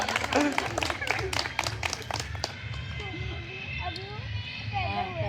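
Audience clapping breaks out at a Hindi stage show, a burst of dense claps in the first couple of seconds that thins out, with voices and background sounds carrying on underneath.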